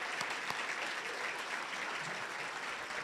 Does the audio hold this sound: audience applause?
yes